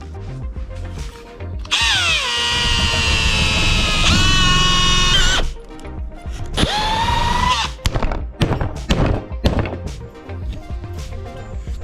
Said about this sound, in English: Hey, got to use my drill.